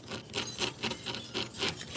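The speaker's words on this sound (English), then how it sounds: "So right now I'm just doing the sanding of it." Sandpaper rubbing quickly back and forth across a wooden craft piece, rhythmic rasping strokes, soft and close with no speech.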